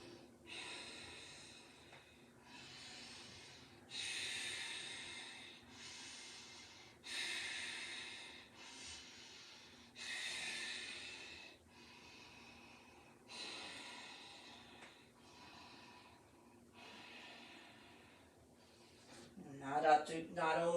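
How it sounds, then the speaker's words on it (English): Slow, audible Ujjayi yoga breaths, each long hissing inhale or exhale lasting a second or two, repeat with short pauses across the clip, close and fairly quiet, during a sequence moving from kneeling planks to child's and puppy poses. "Let's still use that Ujjayi breath as you do it."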